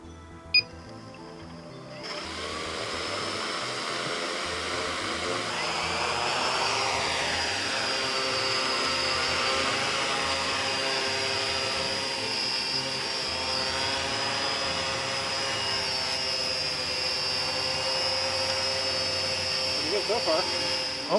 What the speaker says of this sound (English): So for our first flight, we're just going to toss it in the air and see what happens.